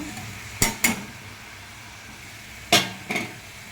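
Two small tomatoes being stirred into a cooking pan on the stove, heard as two pairs of short scraping clinks of a utensil against the pan, fairly close, with a faint background hiss between them.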